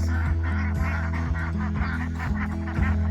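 Ducks and geese on a small homestead honk and quack repeatedly at close range, a busy overlapping chorus of calls with no voices.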